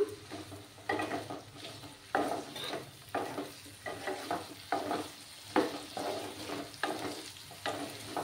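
Potato slices frying crisply in a pan with salt, steady sizzling broken by a regular rhythm of stirring and scraping strokes roughly once a second, close and clear.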